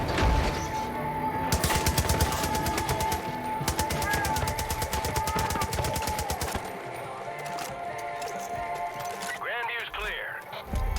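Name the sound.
mounted gun firing in video game Far Cry 5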